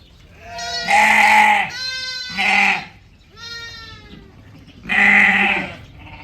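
A goat on a goat farm in Dubai bleats four times, loud and close, with wavering cries separated by short quiet gaps.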